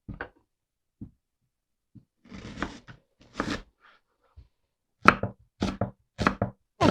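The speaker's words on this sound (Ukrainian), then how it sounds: "Такої товщини півкільцями зараз наріжу всю цибулю і складу у мисочку" A knife cuts an onion into half rings on a board for a winter salad, giving sparse close taps at first, then a quicker run of crisp chops near the end, with no talking.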